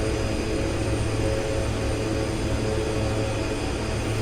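Airplane engine in the X-Plane 11 flight simulator, cruising over the ocean: a constant, even drone and whine holding at steady loudness throughout, with no talk.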